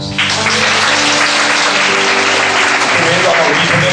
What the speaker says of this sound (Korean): 여러분 박수 한번 주세요